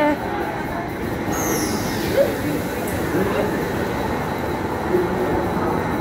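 A metro train stands at a station as its doors open, a steady low rumble of the carriage and platform with a faint high whine and brief clanks, while people talk nearby.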